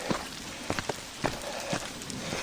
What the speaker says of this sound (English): the rain is beginning to wet the rocks that I'm supposed to be running on